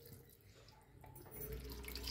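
Water poured into a fish curry already mixed with ginger garlic paste, a soft trickling pour that grows steadier and fuller midway, close and alone without talk.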